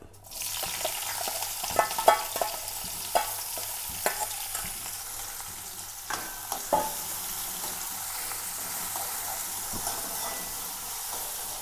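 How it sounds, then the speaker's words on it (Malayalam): Cut green chillies, shallots and garlic fry in hot oil in a pan, a steady sizzling hiss with scattered spatula scrapes and taps in the first seconds, then an even crackle. "ഞാൻ ചട്ടി വെച്ചിട്ടുണ്ട് എണ്ണ ഒഴിച്ചിട്ടുണ്ട് എണ്ണ കാനായിട്ടുണ്ട് ഇതിലേക്ക് രണ്ട് പച്ചമുളകും ചുമന്നുള്ളി വെളുത്തുള്ളി എന്നിവ കട്ട് ചെയ്തതാണ് ഇട്ട് കൊടുക്കുക"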